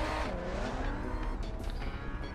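A car drifting in the Cars 2 video game, loud engine roar with a rising tire squeal and skid sliding through a corner, continuous and close.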